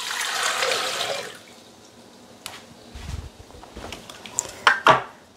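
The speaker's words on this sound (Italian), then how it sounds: "Iniziamo la ricetta mettendo all'interno del boccale l'acqua" Water pours into a Thermomix bowl in a steady rushing stream for about a second and a half, followed by scattered clinks and knocks of the bowl and kitchen gear.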